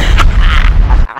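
Booming gunfire-like blasts from the League of Legends game mode URF, a dense run of heavy impacts filling the clip before cutting off abruptly near the end, with no talking.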